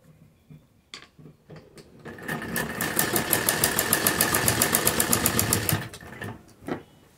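Sewing machine stitching a palazzo pocket, a single run of a few seconds with a rapid rhythmic needle clatter up close, framed by handling clicks before and after.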